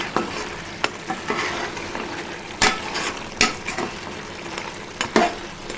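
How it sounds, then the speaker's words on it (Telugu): Spoon stirring crab curry (peethala iguru) as it cooks in a pan, with a steady sizzle under a series of scraping, clinking strokes spaced a second or so apart, close and moderately loud, no talking. "మధ్య మధ్యలో కలుపుతూ ఉండాలండి మెల్లగా"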